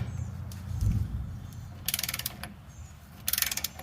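Tie rod bolts being torqued on a 1976-1980 Chevy 4x4, heard as two short bursts of rapid ratchet clicks separated by quiet, with a dull thump early on.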